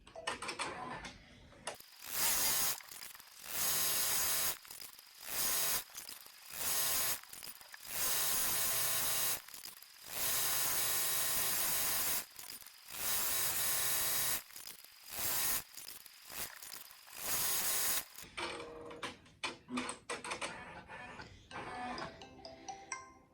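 Embroidery machine stitching a shirt neckline, running in repeated loud mechanical bursts of rapid clattering separated by brief pauses, with no talking.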